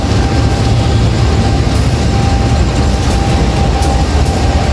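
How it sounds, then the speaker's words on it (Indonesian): A night passenger train drawn by two CC 201 diesel locomotives gives a loud, steady rumble and roar from inside the carriage, with faint rhythmic wheel clatter and no talking. "Dan ini dia lokomotif Niasnya hari ini ternyata double traksi guys"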